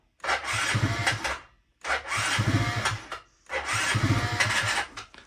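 A Yamaha Jog scooter that refuses to start cranks in three separate bursts, each lasting over a second, with short silent gaps between them. The mechanical whirring is loud and close, and no voices are heard.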